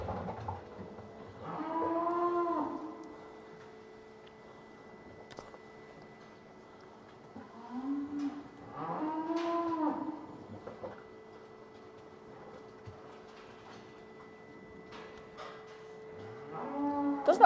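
A cow in a hoof-trimming crush, with a deep-tissue problem in its hoof, moos loudly three times, at the start, around the eighth second and at the very end. A steady low hum runs underneath, and there are faint clanks between the calls.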